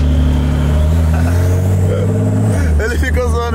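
A Porsche engine revs loudly and steadily in the foreground, with a deep sustained drone that shifts toward the end while someone talks over it.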